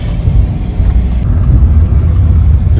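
A VW camper van drives along a road on the island of Elba in Tuscany, giving a loud, steady low engine and road rumble heard from inside, with no voices.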